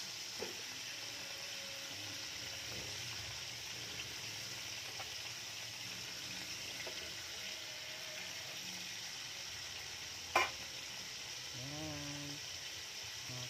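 Food sizzles in a frying pan with a faint, steady hiss, with a few soft clicks and a brief voice near the end.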